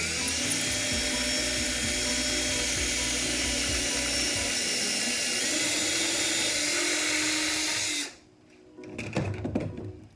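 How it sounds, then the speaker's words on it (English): A power drill whines steadily up close while driving screws into garage shelving, running for several seconds before stopping abruptly, followed by faint clatter and handling noise. "I'm going to drill these 3 off real quick, and then we're gonna mount these"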